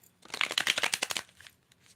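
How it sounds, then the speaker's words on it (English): A quick riffle of tarot cards, a short burst of crisp flicking and shuffling lasting about a second, close and fairly quiet, then near silence. "let me get a little quick shuffles in"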